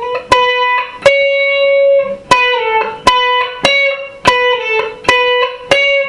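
Electric guitar plays a repeated lick: a note struck three times, then a pull-off and slide, the sharp plucked attacks ringing with bright overtones in an even, clean rhythm with no voice over it.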